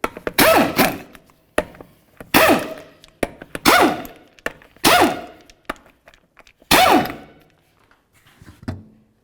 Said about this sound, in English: remove all 5 of our 19mm lug nuts and then the wheel